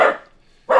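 A dog barks twice close by, two loud, sharp barks separated by a short pause.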